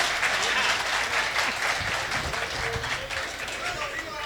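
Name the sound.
audience clapping at a poetry show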